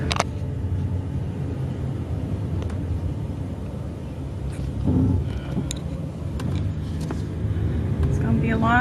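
Inside a moving car, a steady low engine and road rumble fills the cabin throughout, with a person talking over it now and then.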